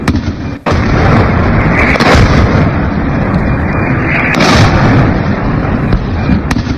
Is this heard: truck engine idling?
no